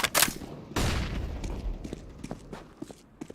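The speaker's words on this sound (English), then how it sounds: "Throwing flashbang." A video game firefight: a sharp flashbang pop, then a heavy blast and scattered gunshots with footstep-like clatter, loud and close at the start and fading into smaller irregular hits.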